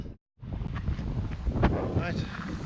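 Strong wind gusts at Rhuddlan Castle, a ruined stone castle, buffet the microphone with a loud, continuous broadband roar after a brief dropout at the start.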